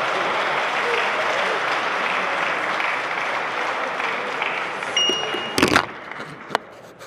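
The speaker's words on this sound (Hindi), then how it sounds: "भरपूर तालियां वल्ला जमाल अरसीली के लिए" Sustained audience applause at a mushaira after a poet's recitation, a dense even clatter of many hands that gradually thins and fades, followed by a few scattered claps and bumps at the end.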